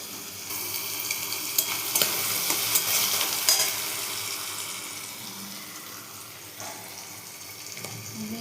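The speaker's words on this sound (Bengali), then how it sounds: "চিংড়ি মাছটা হালকা ভাজবো" Shrimp fry lightly in a pan with a soft steady sizzle, broken by a few scraping stir strokes early on; no one speaks.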